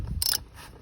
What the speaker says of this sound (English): Now with my 1 and 1/8 socket, I'll go ahead and just crack the top.